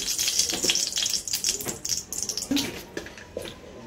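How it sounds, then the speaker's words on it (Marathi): Cumin seeds crackle and spit in hot oil in a home kitchen pan, a dense run of sharp pops and sizzling bursts up close, loud at first and thinning toward the end. "मस्त तडतडत आहेत जिरे"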